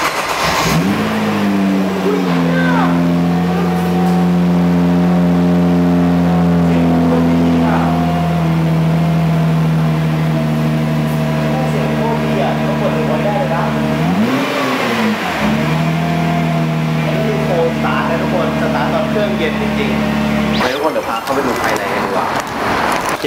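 A Nissan GT-R R35 Nismo rated at 600 horsepower starts up and idles loudly, its engine note steady and near with a sharp rev rising and falling midway and a final blip before it settles.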